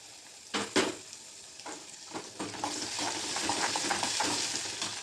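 Onion, ginger and garlic fry in a pan for Vidarbha-style fresh pigeon pea chutney, a few stirring knocks up front, then a steady sizzle that grows louder and fuller, with no talking.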